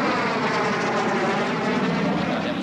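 An F-18 Hornet fighter jet roars steadily and loudly, a broad, sustained engine rumble with no voices over it.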